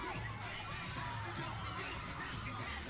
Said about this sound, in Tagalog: Grabe sigawan ng mga tao